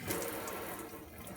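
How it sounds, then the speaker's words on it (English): Warm tap water runs steadily from a faucet for rinsing orchid roots, a soft, even splashing stream heard alone and fairly close. "I put the water back on warm"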